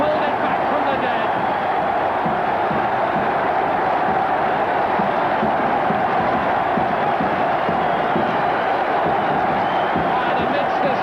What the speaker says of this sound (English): the crowd, the Leicester supporters go wild